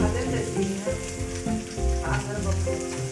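Food sizzling and frying steadily in a pan in a home kitchen in Ratnagiri, with continuous crackle and occasional stirring scrapes, close and fairly loud, no talk.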